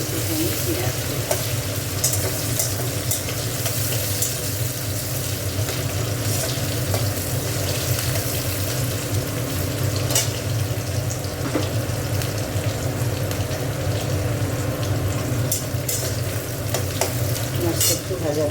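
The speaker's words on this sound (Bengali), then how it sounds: "মাছটা একটু ভাজা ভাজা হোক।" Small fish frying with a little onion in a pan, a steady close sizzle and crackle of hot oil that continues without a break, with occasional stirring scrapes and no talking.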